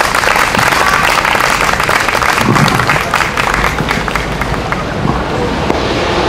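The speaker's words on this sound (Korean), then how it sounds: "우리 목사님도 한번 힘차게 박수로 맞이해 주세요." A church congregation applauding to welcome a pastor, a loud, dense roar of many hands clapping that holds steady and then gradually thins and fades toward the end.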